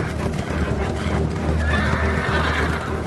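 Horses neighing for a chariot, several loud whinnies over dense hoof clatter and rumbling movement, continuous and close throughout.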